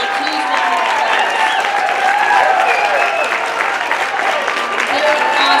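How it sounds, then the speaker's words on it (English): Loud, sustained applause and cheering from a large crowd at an evening event, honouring the night's MCs, with whoops and voices mixed into the dense clapping throughout. "Please give these guys a huge round of applause."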